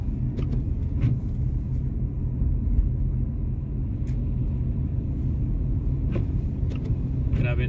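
Slow car traffic on a snowy expressway gives a close, steady low rumble of tires and engines from inside a moving car, with occasional faint clicks and a voice talking over it at times.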